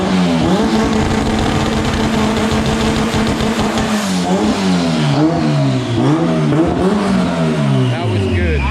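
A 1500hp car engine revs hard on a dyno, loud and close, its pitch climbing and falling in repeated sweeps over a steady roaring drone. Voices are faintly audible beneath it.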